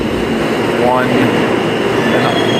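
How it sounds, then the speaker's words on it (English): An R160 E subway train arriving at the 8th Avenue platform in Penn Station, a loud, steady rumbling roar with a brief rising wheel squeal, heard close and alone. "And here comes an E train, and this is an"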